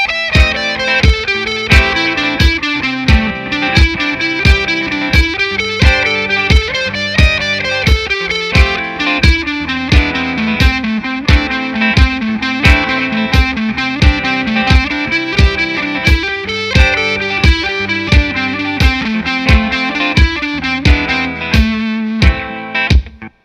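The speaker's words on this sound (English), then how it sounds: "this 8th note triplets are going to sound like this" A distorted electric guitar with effects plays a steady eighth-note triplet rhythm, evenly pulsing notes moving through a winding melodic line, loud and close with no talking.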